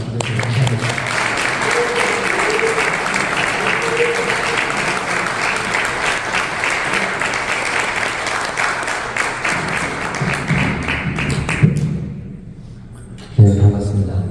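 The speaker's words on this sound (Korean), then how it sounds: "여러분들 큰 박수로 환영해 주시면 감사합니다." Sustained applause from a church general assembly audience at a symposium welcoming a guest speaker, an even, full patter of many hands that fades out, followed by brief voices.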